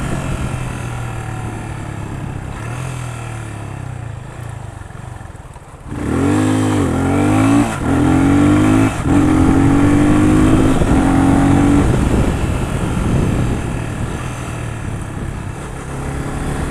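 A Yamaha FZ 25 motorcycle engine rises and falls through gear changes while riding, a loud, close drone that drops at a shift, then climbs steadily in pitch under constant rushing wind.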